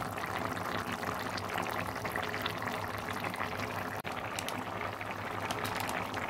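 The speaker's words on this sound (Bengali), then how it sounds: "ছোলাগুলো ফুটে উঠেছে, সেদ্ধ হয়ে গেছে।" Kabuli chickpeas boil in a pot, producing a continuous bubbling, gurgling roar with a brief dip partway through.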